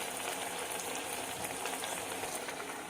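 Mor kuzhambu with vegetables and ground paste boiling in a pot, a dense continuous bubbling hiss with fine crackles and pops, loud and close, steady from start to finish.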